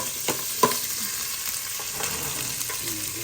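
Garlic and ginger frying with a pinch of salt in a pan, a steady close sizzle with a few sharp clicks and stirring scrapes.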